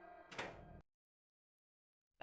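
A door opens in the DOOM 64 video game with a short mechanical grinding slide that lasts under a second and stops abruptly. Silence follows, then a sharp new sound cuts in at the very end.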